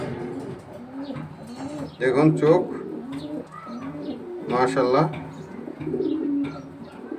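Racing pigeons of pedigree stock coo repeatedly in soft bursts near the microphone, while someone talks over them throughout.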